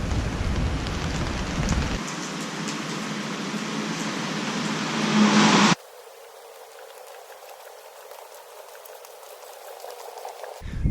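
Steady hiss of rain pouring down, loud and dense at first, then dropping to a softer, quieter patter.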